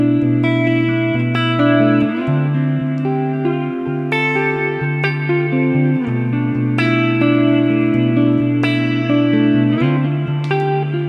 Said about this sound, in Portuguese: Depois a gente tem o Comet, que ele coloca um phaser, um flanger junto aqui